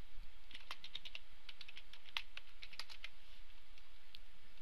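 Keys clatter on a computer keyboard while code is typed, a steady run of light, close clicks in uneven bursts with short pauses, no voices.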